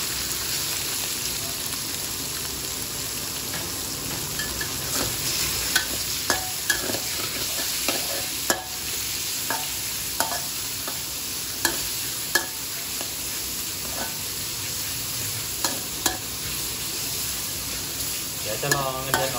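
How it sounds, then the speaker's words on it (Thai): Pork belly sizzles and crackles steadily in a hot pan while stir-frying, with frequent sharp scrapes and clanks of a utensil stirring it, no voices. "หมูสามชั้นเนี่ยผมจะลวน"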